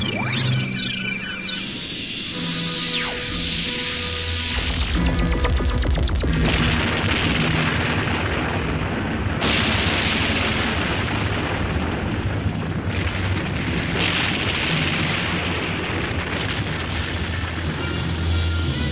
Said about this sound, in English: Sonic cannon to activate the volcano.